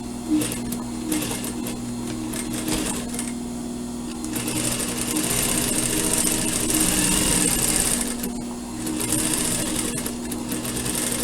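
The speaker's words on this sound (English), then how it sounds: "You fold that back, and you start sewing again." A sewing machine stitching fabric for a surgical scrub cap, a close, steady mechanical whir with a constant hum, running in long continuous bursts with short pauses and clicks between seams; no speech.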